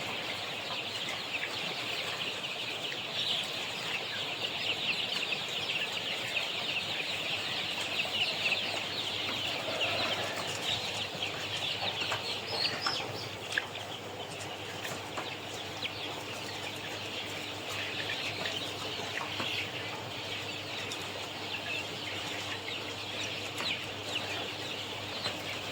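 Chickens and young chicks cluck and cheep steadily through a long stretch of a warm-weather poultry setting, a continuous moderate chorus with a constant background hum and no speech.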